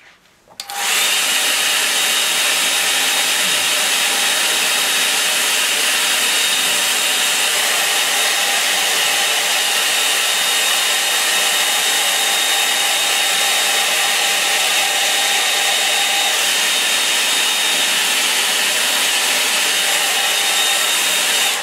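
A hair dryer blows steadily and loudly for about twenty seconds, drying watercolour paint on 200 lb Saunders paper, starting abruptly and holding an even, close whir throughout.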